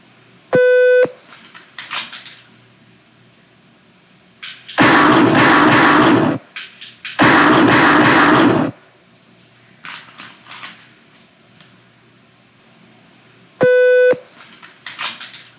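A shot timer in basic mode sounds two sharp, loud electronic beeps, one near the start and one near the end, with handling noise and two long bursts of broadband noise between them during dry fire practice.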